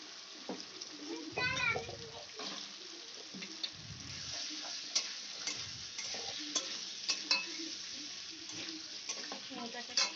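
Potato pieces are stirred in a spice masala in an oily pan, making quiet, irregular scraping and a faint background sizzle. A few soft knocks come and go throughout.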